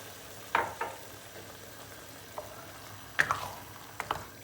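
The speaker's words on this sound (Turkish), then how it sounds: "Bir su bardağı soğuk su ilave ediyorum." Cold water poured into tomato paste sautéing in a pan, a quiet background sizzle broken by a few sharp splashing bursts of hissing.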